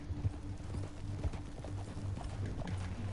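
A horse's hooves clip-clop at a steady trot in the open-world western game Red Dead Redemption 2, close and fairly clear, with a rumble of movement behind them.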